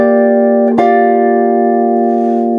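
A jazz chord voiced in drop 2 rings out sustained and steady, with a brief pick or strum attack early on, then holds evenly at close range with no talking.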